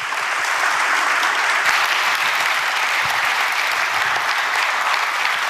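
A crowd at a televised South Korean government national policy briefing event applauds steadily and densely for several seconds, with no voices over it.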